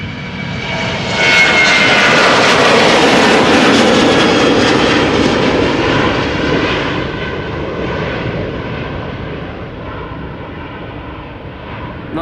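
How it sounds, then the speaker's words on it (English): A KLM Boeing 737-800 airliner's jet engines roar loudly at Amsterdam Schiphol Airport, a powerful broad rush that peaks early then slowly fades as the aircraft moves away. "This is KLM flight 1845 going to Vienna, Boeing 737-800."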